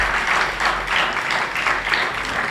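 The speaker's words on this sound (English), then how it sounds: "Can you give those sponsors a round of applause" An audience at a closing ceremony for a junior skills competition in Barbados claps in steady, full applause, loud and close, with no voices over it.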